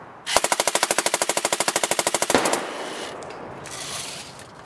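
A Drozd Blackbird BB machine gun fires a rapid burst of about two dozen evenly spaced sharp cracks over two seconds, loud and close, followed by a fading rattle and faint clinks.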